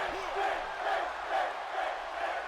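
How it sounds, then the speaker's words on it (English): A wrestling arena crowd in WWE 2K18 roars and cheers steadily during a Finn Balor match, a dense continuous swell of voices with no break. "The crowd getting behind Finn."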